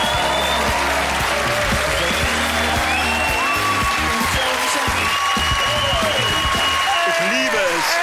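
Studio audience applauding on a German TV comedy show, a dense steady clatter of clapping that runs throughout over music and background tones.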